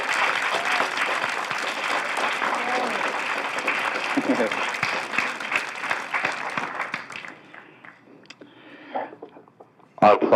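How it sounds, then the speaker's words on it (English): Audience applause at an eighth-grade moving-on ceremony, steady dense clapping for about seven seconds before fading into scattered claps and murmurs, with a brief burst again at the end. "we'll do a big round of applause at the end."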